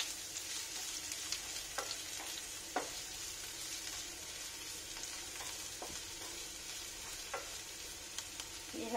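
Onion and chili frying in a pan with carrot, a steady faint sizzle hissing throughout with a few soft clicks of stirring scattered across it.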